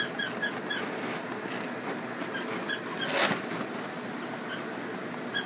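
A black mouth cur dog squeaks in short high-pitched chirps, repeated in irregular clusters over a steady background hiss.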